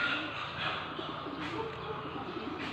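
A Taiwan pigeon coos softly in a few low, rolling phrases against faint background noise.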